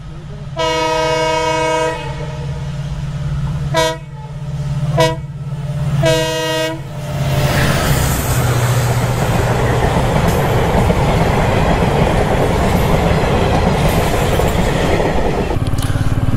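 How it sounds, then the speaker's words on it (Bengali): A train on a hill railway near Gorubathan and Kalimpong in North Bengal sounds several loud horn blasts, then rumbles steadily past at close range with continuous wheel and carriage noise. "দেখো ট্রেন আসছে"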